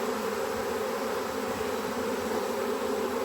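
A dense, continuous buzz of many bees humming together at close range, steady and unbroken throughout.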